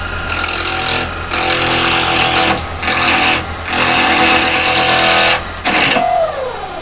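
A spindle gouge cuts wood on a lathe in a steady, loud, buzzing drone, broken by several short pauses as the tool lifts off and returns to the spinning workpiece.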